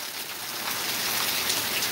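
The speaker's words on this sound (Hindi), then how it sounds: "लगातार 1 घंटों से बारिश तेज़ बारिश के रूप में हो रही है" Heavy rain pours down in Madhubani after an hour of steady downpour, a loud, dense, continuous hiss of drops striking surfaces, with no voices.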